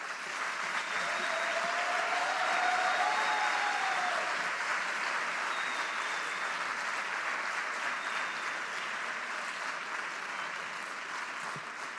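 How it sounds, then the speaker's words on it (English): A large graduation audience for a master's ceremony gives sustained applause, a dense even wash of clapping from a big hall that tapers slightly toward the end. "Let's give another round of applause for both Beatriz and Mosa."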